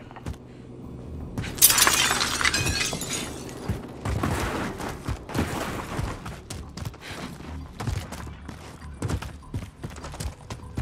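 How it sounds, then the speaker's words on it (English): Glass shatters loudly in a burst inside Call of Duty: Modern Warfare, the crash trailing into scattered debris and clattering game sounds. "It was glass smashing then."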